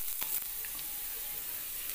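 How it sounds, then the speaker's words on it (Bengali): Raw onions frying in hot oil in a pan, a steady bright sizzle with a couple of brief stirring clicks near the start, close and continuous but fairly soft. "পেঁয়াজটাকে খুব সুন্দরভাবে ভাজা করে নেওয়া হচ্ছে।"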